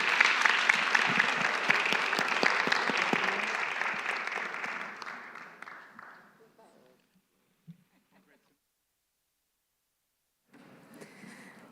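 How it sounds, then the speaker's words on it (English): Conference audience at a Bucharest forum applauding a panel: a loud, dense round of clapping that fades out over several seconds into near silence, followed by faint room noise. "Please, let's give a round of applause to this exceptional panel."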